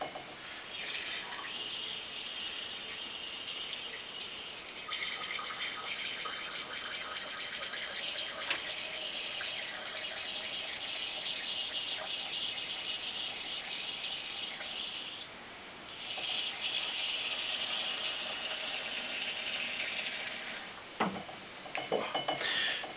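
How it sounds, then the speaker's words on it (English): Homebrew beer poured from a pressure barrel into a glass, a steady, faint hiss of flowing liquid that goes on for over twenty seconds, with a brief lull partway through and a few light clinks near the end. "Still getting used to pouring from the pressure barrel."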